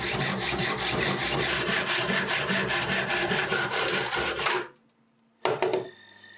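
A saw cutting off excess steel channel, with fast, even back-and-forth rasping strokes up close. The strokes stop abruptly near the end, followed by a short pause and a brief metallic clatter.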